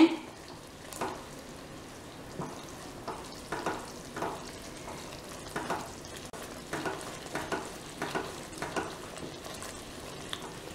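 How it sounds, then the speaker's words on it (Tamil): Ghee hitting a hot Mysore pak mixture sizzles and crackles softly, with repeated stirring strokes in a steady rhythm of scraping and frying bursts, fairly quiet and close. "இப்போ கொஞ்சம் நெய் விடுறேன்"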